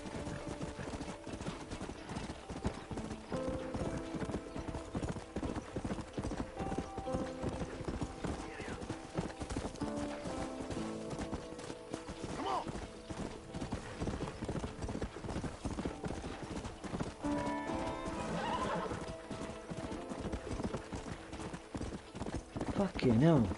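Steady rhythmic hoofbeats of a galloping horse in a video game, with a whinny or two, under a voice talking over the top throughout.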